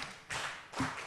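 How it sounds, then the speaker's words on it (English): A classroom of students gives a few soft, scattered claps in two short bursts for a classmate, faint and a little distant. "Let's give her 5 big claps."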